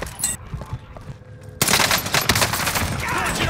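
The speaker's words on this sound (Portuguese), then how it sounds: "Estão atirando em mim." Gunfire in Call of Duty 6, a video game: a quieter stretch with scattered sharp pops, then a sudden loud burst of rapid machine-gun fire that keeps rattling to the end.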